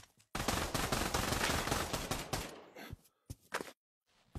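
Rapid automatic gunfire in the VR shooter Pavlov rattles in a sustained burst for about two seconds, then a few sparse, separate single shots follow with silent gaps between them.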